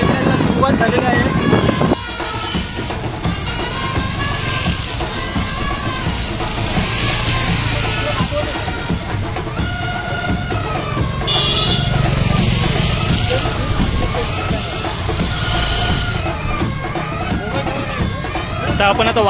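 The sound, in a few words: motorcycles riding in a bike rally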